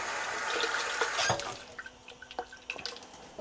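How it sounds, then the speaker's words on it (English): Tap water runs into a glass jar of leftover marinara sauce in a home kitchen, a steady close splash that breaks into scattered drips and small pours as the flow eases. "I'm just going to get some water in here to get all the sauce out"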